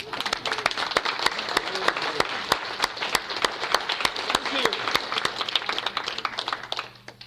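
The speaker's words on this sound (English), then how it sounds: "join me in a round of applause for our beloved Myron today" An audience at a gathering gives a round of applause for Myron, a crowd of scattered, individually sharp claps that builds and holds, then tapers off near the end.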